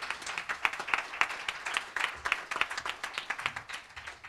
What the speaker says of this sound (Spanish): a todos ustedes les pido un fuerte aplauso para agradecérselo